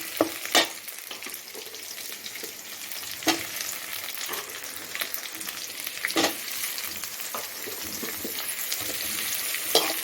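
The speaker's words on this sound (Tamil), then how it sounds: "அடுப்பத்தை வச்சு கடாயை வச்சு எண்ணெய் ஊற்றிருக்கிறேன் ஃபஸ்ட்டு வெங்காயம் போட்டு கொஞ்சம் வதக்கிட்டு" Onions sauté in oil in a kadai on a stove, a steady sizzle punctuated by several sharp spoon-against-metal stirring clacks spaced a few seconds apart, with no voice.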